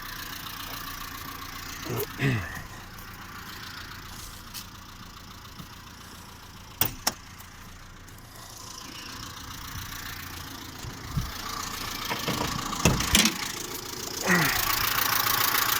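A car engine idles quietly and steadily, with a few brief clicks and knocks over the low hum.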